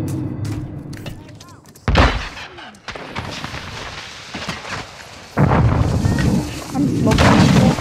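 Heavy gunfire and explosive booms burst out in the Call of Duty Warzone match on Ashika Island, with several loud, close blasts and rumbling impacts.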